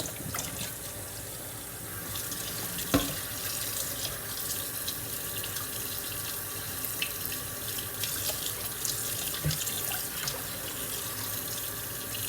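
Raw chicken wings being washed in a kitchen sink under a steadily running tap, a continuous rushing splash of water with occasional knocks and sloshes as the wings are handled.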